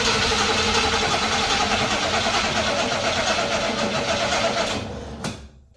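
A small block Chevy V8 that has been sitting cranks over steadily on an AstroAI jump starter's boost, a loud, continuous churning that runs for about five seconds and then cuts off abruptly.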